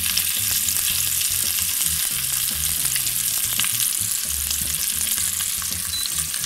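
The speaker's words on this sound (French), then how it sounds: "On entend que ça frétille assez sec." Pieces of Ibaïona pork belly, already caramelized to render the fat, sizzle and crackle steadily in a hot pan, a continuous close frying hiss with low bubbling and occasional stirring clatter, no voices.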